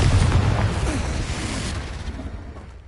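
A Confringo blasting spell going off in Hogwarts Legacy, a loud rumbling explosive blast that slowly fades out, with no talking.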